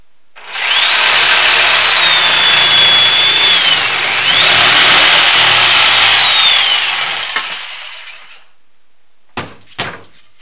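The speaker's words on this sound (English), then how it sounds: "Air compressor." A power tool, likely a saw cutting wood for an Adirondack chair, runs loud and steady for about seven seconds, dips in pitch midway, then winds down, followed by two short sharp bursts near the end.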